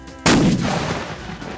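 A black-powder mortar or cannon fires once at a shooting competition, a sudden loud close boom followed by a long rumbling decay.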